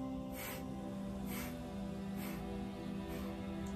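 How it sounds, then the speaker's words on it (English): A person breathes out in four short sniffs during a breathing exercise: four soft, evenly spaced puffs over a quiet, steady background hum. "Exhale, 4 sniffs."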